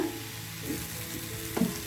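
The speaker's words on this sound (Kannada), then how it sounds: "ಟೊಮೊಟೊ ಚೆನ್ನಾಗಿ ಸಾಫ್ಟಾಗಿ ಹಸಿ ವಾಸನೆ ಎಲ್ಲ ಹೋಗ್ಬೇಕು ಆ ಥರ ನಾವು ಇದನ್ನು ಫ್ರೈ ಮಾಡ್ಕೊಬೇಕು" Chopped tomatoes fry in oil in a pan, giving a soft, continuous sizzle with a sharper scrape of stirring near the end; no one speaks.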